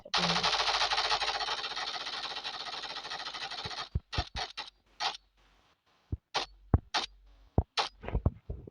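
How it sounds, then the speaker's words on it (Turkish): Rifle gunfire in the video game PUBG: a sustained rapid automatic burst of about four seconds, followed by scattered single shots and clicks with quiet gaps between them. "Bekle 3 tane mermi bırakacağım."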